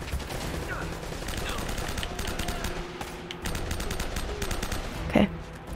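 Rapid gunfire from the video game Uncharted: Drake's Fortune, sustained bursts of automatic shots with a sharper burst near the end, heard close and loud amid game sounds.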